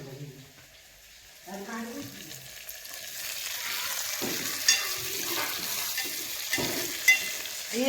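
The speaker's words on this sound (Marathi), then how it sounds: "कांदा राहिले हलवतो मी कांदा" Onions frying and being stirred in a pan at home while rice is cooked, a steady broadband sizzle with occasional spatula scrapes, and a voice speaking intermittently over it.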